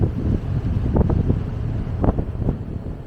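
Wind gusting over a microphone aboard a sailing boat at sea, a dense buffeting roar with low thumps and surges throughout, no voices.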